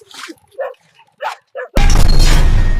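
A dog gives several short, sharp barks at a motorbike, with gaps between them, then a loud, continuous roar of engine and wind takes over.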